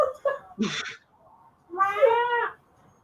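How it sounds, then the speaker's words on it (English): A house cat meows indoors at night, two separate calls: a short, rough one followed by a longer, clearer drawn-out meow, close and fairly loud with quiet gaps between. "Our cat's being very vocal tonight."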